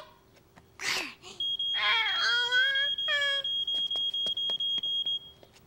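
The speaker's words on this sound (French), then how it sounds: "nous allons réécouter le bruit que fait l'alarme pour pouvoir le reconnaître" A household smoke alarm starts up after a brief burst of a voice and crying-like sounds, then beeps loudly in a fast, regular chain of short shrill pulses until it stops abruptly.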